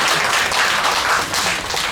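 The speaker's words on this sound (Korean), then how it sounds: "박수와 함께" Brief applause from an audience at a Buddhist women's festival welcomes a speaker, a short burst of clapping that rises and dips without pause.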